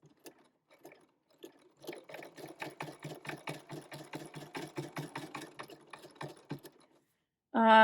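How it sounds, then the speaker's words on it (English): A sewing machine stitches around a gift card holder made from art printables, a steady run of rapid needle strokes at close range after a few brief starts, ending with a sudden loud burst. "And then I'm going to sew to the middle of this."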